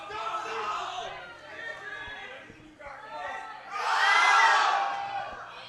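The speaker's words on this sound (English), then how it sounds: "The crowd is getting loud." A powerlifting meet crowd builds into loud cheering and shouting, a continuous roar of many voices that swells sharply near the end.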